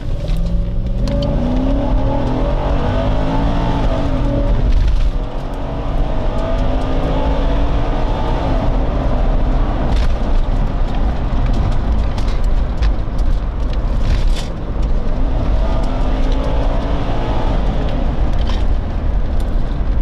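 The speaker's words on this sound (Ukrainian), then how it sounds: "Адекватна обкатка мотора." An Audi S6 C5 with a 4.2 V8, freshly repaired, runs steadily at close range, a loud continuous engine drone with shifting harmonic tones and a couple of brief dips, no voices present.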